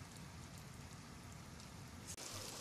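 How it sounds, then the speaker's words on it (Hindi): Steady rain pours down in a dense, continuous hiss, with a brief dropout near the end. "बारिश हो रही है।"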